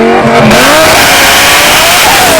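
Twin turbo Lamborghini Gallardo supercar exhaust revving, a loud, close, continuous rising engine roar with a raspy tone.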